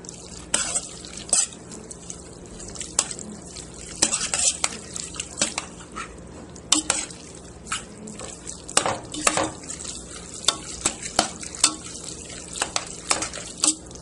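Cheddar cheese sauce being stirred into macaroni, with the spoon scraping and knocking against the pot in an irregular rhythm of close clicks and soft squelches, and no talking.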